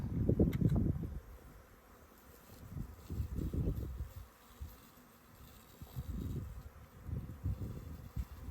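Wasps buzzing inside a homemade plastic bottle trap, close low droning in repeated swelling bursts with quieter gaps, no talk.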